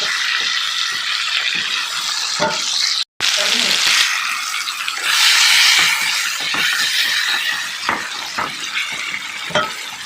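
Onion and tomato fry in a pan for a late-night dahi katla curry, a loud, steady sizzle running throughout with occasional stirring clicks and scrapes and one brief break.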